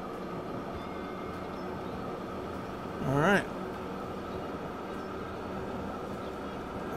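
Rail traffic in the railway simulation game Transport Fever 2: a steady low rumble of running trains, with a brief rising horn-like whine partway through. Someone speaks briefly over it.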